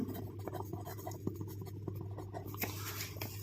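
A pen writes out a maths solution on paper in soft, steady scratching strokes with small taps, close and quiet over a low hum, with no talk.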